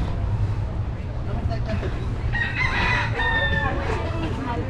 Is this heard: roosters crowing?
yes